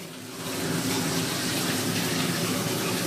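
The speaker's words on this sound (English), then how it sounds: "Shower time, babe." Shower water runs at home, a steady, dense hiss of spray that starts quietly and quickly swells to a constant loud rush, with no speech.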